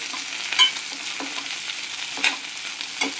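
Broad beans (bobbarlu) frying in a pan, with a steady soft sizzle under a few louder stirring scrapes, close and on its own without any talk.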